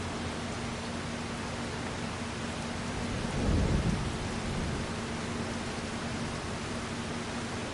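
Steady heavy rain hisses in Farming Simulator 25, with a low rumble of thunder rolling through midway.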